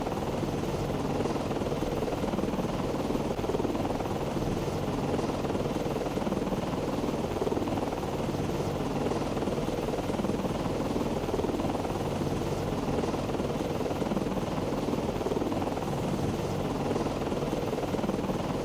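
Helicopter rotor drone from the submarine combat game Cold Waters, a steady, loud, continuous thrum that holds unchanged throughout with no voices.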